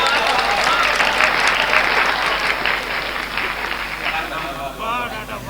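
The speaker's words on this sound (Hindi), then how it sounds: "एक बार तालियां जोरदार बजाया हो" Loud applause from the crowd at a Hindi poetry recital in Lambhua, thick and continuous, slowly tapering while voices rise over it toward the end.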